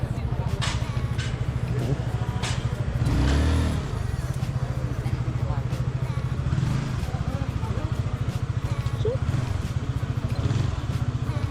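Big bike motorcycles on a short group ride, engines droning steadily close by with a rhythmic throb and wind rush, one brief louder swell near the middle, while people talk over the ride.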